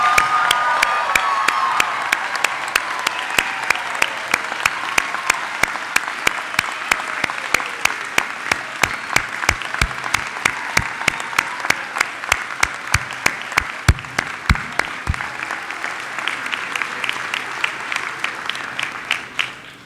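A crowd at the Rockingham Community College 2015 graduation ceremony applauds its graduates, a dense, steady wash of many hands that holds strong for about twenty seconds and slowly thins toward the end, with a few sharper claps near the microphone.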